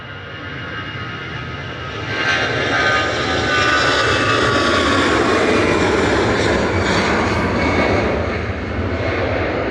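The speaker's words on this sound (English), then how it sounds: "Lufthansa departing to Frankfurt with flight 947 A320 Classic" A Lufthansa Airbus A320 Classic, registration D-AIWH, departs Manchester for Frankfurt, its engine roar swelling after two seconds into a sustained loud, broad rumble that eases slightly near the end.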